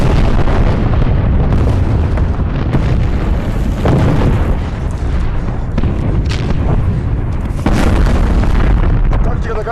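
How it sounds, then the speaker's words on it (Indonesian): Artillery fire in a World War II battle film: loud, dense booming explosions and blasts in rapid succession, deep rumbling low end with sharp crackling bursts throughout. "Tembakan artileri pun diluncurkan."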